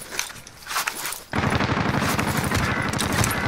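Heavy automatic gunfire in Call of Duty Warzone erupts suddenly after a quieter stretch of distant shots and movement, then continues as a loud, dense rapid burst through the rest of the moment.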